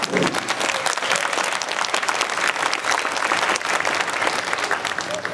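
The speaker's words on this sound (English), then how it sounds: "Another round of applause, please, for our school resource officer, Reginald House" An audience at a middle school orchestra winter concert applauds loudly and steadily, a dense crackle of many hands clapping throughout.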